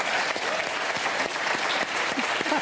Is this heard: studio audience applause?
yes